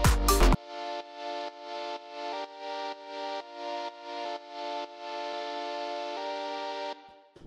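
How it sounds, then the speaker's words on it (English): Synth chord layer built with the Analog synthesizer for a melodic bass house track, sounding as a short burst followed by a series of rhythmic pulsing sustained chords that end in a longer held chord, played alone. "the last layer we've got here is this little chord thing that I made with analog, which sounds like this."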